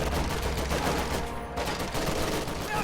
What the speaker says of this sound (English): There's only 1 squad of LMG grenadiers firing on them as they do so.